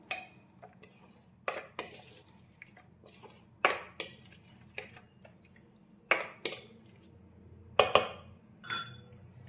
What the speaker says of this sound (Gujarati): એ બધી જ વસ્તુને પહેલાં સારી રીતે મિક્સ કરી લઈશું